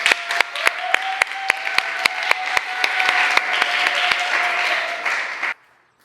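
Church congregation at a Sunday worship service at Jeju Light Church clapping to welcome a speaker, loud steady applause with sharp hand claps that swells and then stops abruptly.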